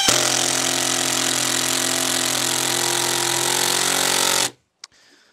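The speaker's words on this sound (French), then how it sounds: "la vis n'a pas été trop difficile à visser, même si ça a été un peu plus long que la première" AEG BSS 18SBL impact driver driving a 5 mm screw: a loud, close, continuous rattling hammer buzz lasting about four and a half seconds, then a sudden stop, one brief click and faint quiet.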